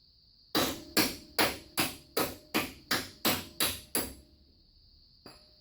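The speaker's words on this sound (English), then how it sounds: "this is the nearest hammer" A hammer strikes nine times in a quick, steady rhythm, each blow sharp and close, followed by a pause and one faint final tap.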